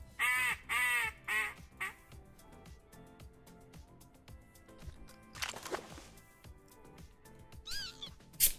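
Ducks quack in a duck-hunting video game, with loud nasal calls at the start followed by scattered thumps and further quacking bursts later on. No voices are heard.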